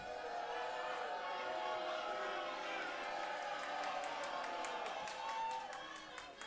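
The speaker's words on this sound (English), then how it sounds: "And you hear this crowd, they cannot stand the Heavenly Icons." A wrestling show crowd roars and jeers in a large arena, a dense sustained wash of noise with scattered claps. It stays loud and constant throughout.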